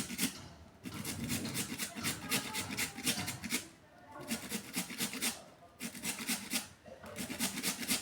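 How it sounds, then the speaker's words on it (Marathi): A potato is rubbed against a grater in quick, rhythmic rasping strokes. Close scraping bursts are separated by brief pauses. "छानपैकी किसून घेऊ"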